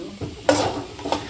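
Chili powder is stirred into a hot frying pan, a short burst of sizzling with scraping spoon strokes, close and moderately loud.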